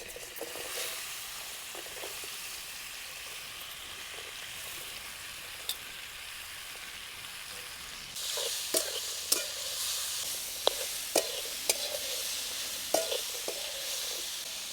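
Chopped pirus vegetable sautés with turmeric in hot oil in a kadhai on a stove, giving a continuous sizzle. Scattered spatula clinks and scrapes grow louder and more frequent partway through.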